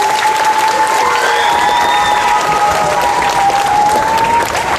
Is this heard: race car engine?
no